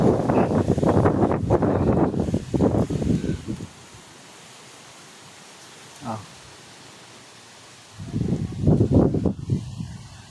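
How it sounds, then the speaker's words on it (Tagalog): Gusty wind buffets the microphone in rough bursts, easing to a quieter rush in the middle before surging again, with a voice speaking over it. "Dito naman ang hangin."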